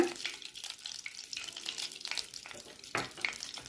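Cumin seeds fry in ghee in a pan over a gas flame, giving a close, steady sizzle and crackle with occasional stirring scrapes.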